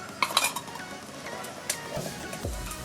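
A spoon clinks and scrapes against a pot while ground coconut and cumin are stirred into aviyal, a traditional Kerala vegetable curry, with a few sharp metallic taps early on, then softer scraping.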